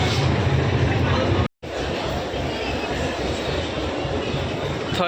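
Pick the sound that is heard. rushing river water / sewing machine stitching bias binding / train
train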